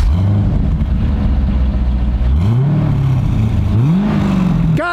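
An American car with its factory exhaust idles with a steady low rumble, then revs twice in quick swells that rise and fall, loud and close, with no talking.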